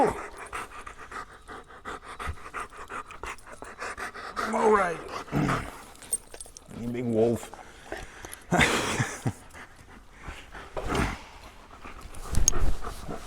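A dog pants heavily in quick, rhythmic breaths close to the microphone, with a few whimpery vocal bursts, while someone talks to it excitedly and laughs in a workshop.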